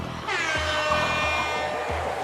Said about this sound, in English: thanks to Dane, we've got the air horn mod